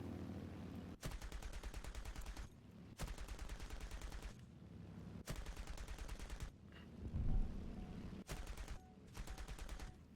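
Tank machine gun in War Thunder firing in sustained bursts, about five long volleys separated by short pauses, loud and rapid throughout.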